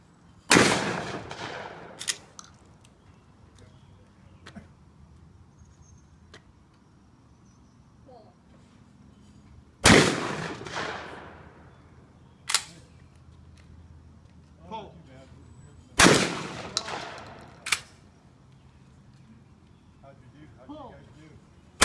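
Shotgun blasts at an outdoor clay target shooting range, three loud sharp reports spaced several seconds apart, each followed by a fainter echo or second shot, with people talking quietly between them.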